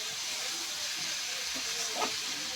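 Fried potatoes and pointed gourd sizzling in spice paste, a soft steady hiss of frying at moderate distance with a faint clink near the end, no talking.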